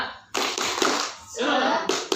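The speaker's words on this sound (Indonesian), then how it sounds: "Jadi kita beri tepuk semangat ya Bu ya." A group does a rhythmic spirit clap during an Indonesian training session. Sharp, loud bursts of clapping come in short patterned phrases with brief gaps between them, and voices call out along with the claps.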